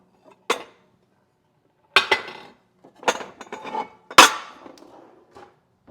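Baking pans, including a big ceramic one, being swapped and handled in a home kitchen, giving several separate clanks and clinks spread over a few seconds, loud and close, with quiet gaps between them and no talking.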